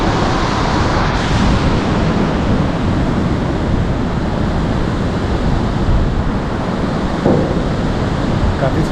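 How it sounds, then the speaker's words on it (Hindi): A waterfall roars beside a bridge in the Valley of Flowers National Park, a loud, steady broadband rush of water that fills the whole stretch, with wind buffeting the microphone. "और यहाँ से ये वाटरफॉल का नज़ारा देखें आप।"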